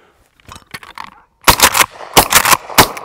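Three sharp, loud shots from a Mossberg 500 pump shotgun in .410 fired at hand-thrown clay targets, coming in quick succession after softer handling clicks and rustles.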